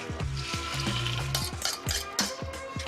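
Eggs cooking in a pan of hot butter and oil with garam masala and turmeric, a steady sizzle with repeated stirring clinks and scrapes against the pan, close and continuous.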